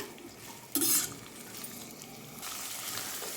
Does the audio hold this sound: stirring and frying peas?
yes